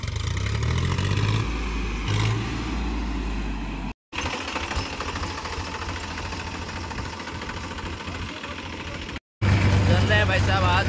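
Diesel tractor engine running with air in the fuel line, a rough uneven rumble with choppy low pulses and brief dropouts, while people talk over it nearby.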